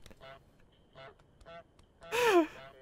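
A cartoon goose in Untitled Goose Game gives a loud, harsh honk near the end, after three short, softer squawks spaced about half a second apart, with no talk over it.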